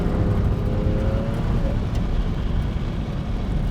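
A Mitsubishi 3000GT's engine and exhaust drone on steadily from inside the car, a continuous low rumble with faint rattles over it and no break.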